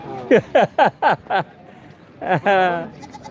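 A goat at a goat farm market bleats loudly and close by in a quick series of five short calls, then gives two longer wavering bleats after a brief pause.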